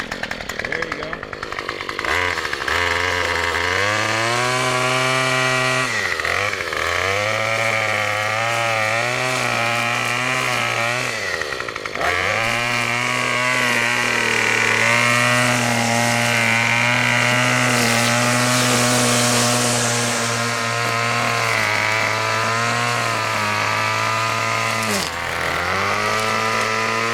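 A Yard Man curved-shaft string trimmer with a trimmer plus edger attachment runs nonstop, a loud, buzzing small-engine drone that rises and dips in pitch as the throttle changes.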